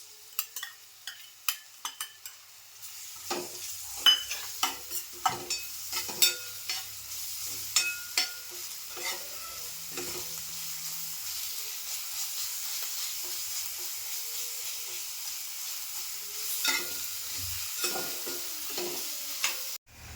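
Ground masala frying with softened onion in a pan for masale bhat, a soft continuous sizzle with many sharp scraping stirs of a spoon, dense at first and sparser later, close and without talk.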